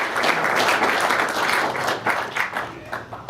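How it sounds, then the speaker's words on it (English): Audience applause at a town hall meeting, a crowd clapping steadily with individual claps standing out before it tapers off toward the end. "So I want to give Jason a round of applause also."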